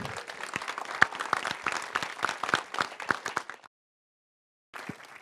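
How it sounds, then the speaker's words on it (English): An audience applauds at a university accelerator demo day, a dense close burst of many hands clapping that cuts off abruptly into silence, then briefly resumes. "can we get one more round of applause for this group?"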